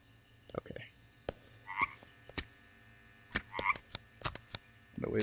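A frog in the video game Wanderer: The Fragments of Fate croaks in a few short, close calls spread across the clip, set against sparse clicks and faint ambient hum.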